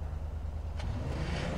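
A car idling steadily in GTA San Andreas, a low continuous engine rumble with a constant rhythmic pulse, close and even throughout with no voices.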